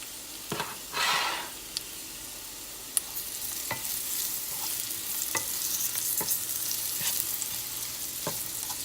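Green beans sautéing in a pan with salt and black pepper, giving a steady, close, even sizzle that runs throughout, with a few utensil scrapes and taps near the start and no voices.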